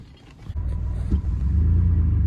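A Ford Ranger pickup with holes in its frame starts up, first a brief crank and then a steady low engine rumble idling close by, with no one talking.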